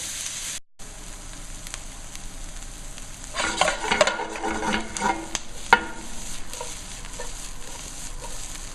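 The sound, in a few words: onions softening in olive oil in a deep pan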